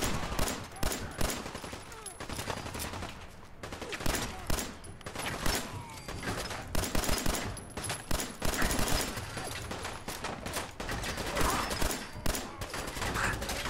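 Gunfire in the game Fallout 4, played in survival mode against super mutants, cracks in rapid, dense bursts and volleys throughout, with scattered voices now and then.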